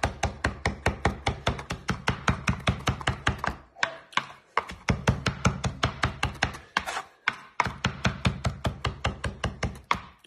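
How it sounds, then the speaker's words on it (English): A knife chops meatball ingredients on a board in a steady, fast rhythm of crisp close taps, with a couple of brief pauses, and no talking. "We give that a good old chop up."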